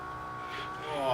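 Race car engine in Project CARS 2 running steadily with a rising pitch toward the end, a continuous close drone with no talk over it.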